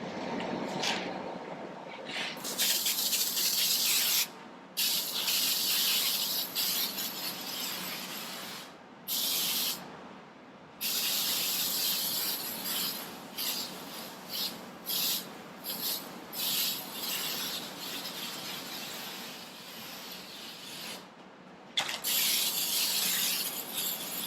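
Rust coating sprayed onto the metal frame of a 2003 GMC Sierra truck, repeated hissing spray-can bursts of varying length separated by brief pauses, close and steady.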